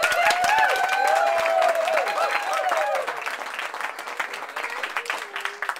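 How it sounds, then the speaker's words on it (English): A wedding crowd bursts into loud, sustained applause for the bride's grandparents, with dense clapping and a few cheers and whoops that gradually thin out toward the end. "Please put your hands together for the grandparents of the bride, Bernard and Julia Dahlhausen."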